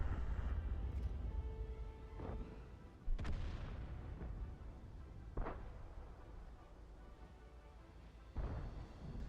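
Tank cannon firing standard rounds in World of Tanks from an AMX 13 57, several sharp booming shots spaced a few seconds apart over a low engine rumble, each followed by a short decaying echo, with no speech.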